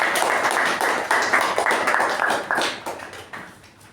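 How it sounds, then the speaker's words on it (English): Applause at a meeting for the master of ceremony, a brief crowd clapping that is dense at first and then thins out and fades over a few seconds, with no speech over it. "let's give a big round of applause to our master of ceremony"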